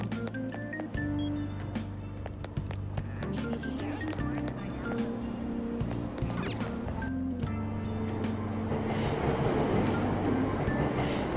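Train arriving at a Tokyo subway station on the Ginza line in the video game Persona 5 Royal, with a steady rumble and rhythmic clicks of cars rolling in, rising into a loud rushing wash near the end.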